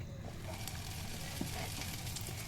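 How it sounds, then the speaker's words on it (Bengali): Vegetable mughlai snacks fry in hot oil, giving a steady, close, dense sizzle with small crackles and no voices. "এখন এই তো তেল গরম করে দিব, নাস্তাগুলা ভেজে নিব।"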